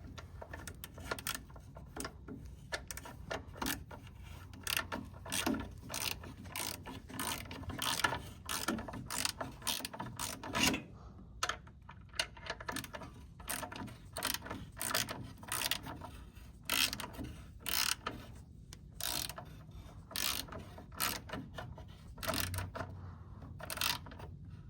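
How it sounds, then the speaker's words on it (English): Hand ratchet clicking steadily while tightening the oil drain plug on a 2000 Ford F-150 with the 4.6 V8, a long run of rapid, close pawl clicks in repeated bursts with brief pauses, no talking. "Now go ahead and reinstall the drain plug."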